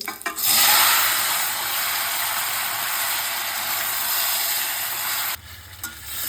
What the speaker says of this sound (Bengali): এই টমেটোটা ফোড়নের মধ্যে ভালোভাবে নাড়াচাড়া করে নিচ্ছি।